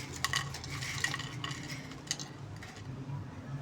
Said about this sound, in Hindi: देखिए माशाल्लाह से पकोड़ों की अभी से आवाज़ आना शुरू हो चुकी है क्योंकि ये बहुत ज़्यादा क्रिस्पी पकोड़े बनते हैं।